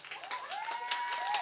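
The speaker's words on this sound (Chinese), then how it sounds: "拍手。" Audience claps at a live music performance in Tiehua Village, a steady patter of many hands over a sustained tone from the stage, lasting briefly with no talk.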